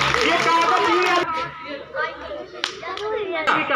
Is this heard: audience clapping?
yes